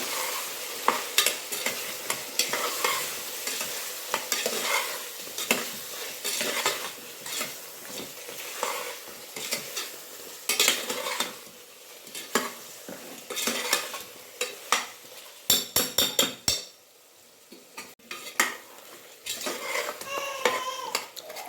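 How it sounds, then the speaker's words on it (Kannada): A spoon stirs a spice mix with peppercorns in a frying pan for brinjal gojju, scraping and clinking against the metal over a soft sizzle, with a brief burst of rapid rattling midway. "ಈಗ ಮಿಕ್ಸ್ ಮಾಡ್ಕೊಂಬಿಡೋಣ ಪೂರ್ತಿ"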